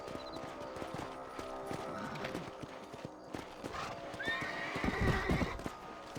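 A horse in the Red Dead Redemption video game whinnies and its hooves clip-clop at a gallop, with game sounds around it and a voice speaking underneath.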